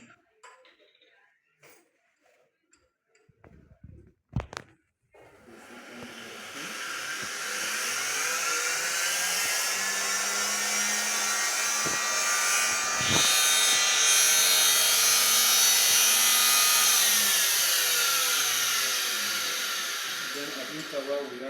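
Laboratory homogenizer running while homogenizing tissue in buffer, starting after a few faint knocks and holding a loud, steady high-pitched whine with a slight rise and fall in pitch for the rest of the clip.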